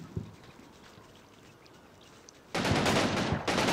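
Rifle grenades and small-arms fire in the Combat Mission WWII game, with 29th Infantry Division troops attacking at La Valence: quiet battlefield ambience, then from mid-clip a loud, sustained burst of sharp cracking shots and blasts close by.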